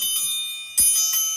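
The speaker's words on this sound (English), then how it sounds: "Ring the bell." A small bell rings out in two clear struck chimes with sustained ringing tones, bright and close, the second strike louder, with no talking over it.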